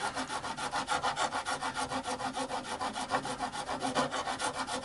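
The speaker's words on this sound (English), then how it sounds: "So I'm just going to file away." A bone nut on a Harley Benton jazz bass is filed by hand in quick, regular back-and-forth strokes, a close, rasping scrape repeating about three times per second.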